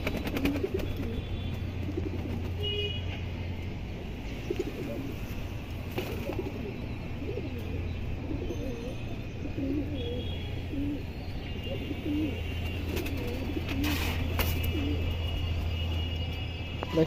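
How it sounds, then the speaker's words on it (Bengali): Female Jabra pigeons in a loft give steady low cooing throughout, blended with a constant hum and other birds murmuring in the background. "একদম ফুল জাবরা একটা কবুতর মাদি কবুতর"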